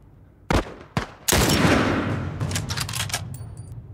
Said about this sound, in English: Who's fucking shooting?